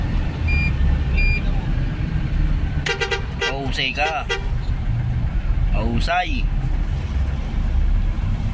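Night traffic on a congested Manila road: a continuous engine rumble with a quick series of car-horn toots and beeps, and people talking inside the vehicle over the top.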